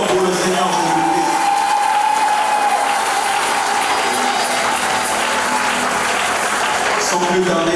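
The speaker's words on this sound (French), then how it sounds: "Est-ce que tu peux encore applaudir très fort pour le Seigneur Jésus-Christ?" Church congregation applauding during a French-language worship service, sustained loud clapping from a large crowd with some cheering mixed in and faint voices underneath.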